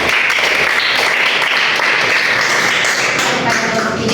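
Sustained applause from a classroom of students clapping for a classmate, dense and steady for the whole stretch with a busy murmur of crowd noise mixed in.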